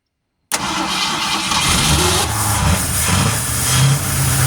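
A 1971 Ford Torino engine cranks and fires after half a second of silence, then settles into a loud, steady rumbling idle close by, with no talk over it.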